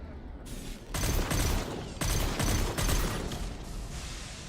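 Sustained sci-fi gunfire from a mech enemy in the Mass Effect 2 video game, dense rattling bursts with heavy low thumps, loud and continuous with brief gaps between volleys.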